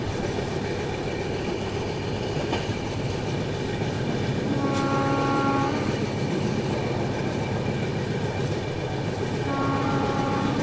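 The superfast Jammu Tavi Humsafar Express runs at a fair speed through Betul railway station without stopping, a constant loud rumble of wheels and carriages broken by two drawn-out horn blasts.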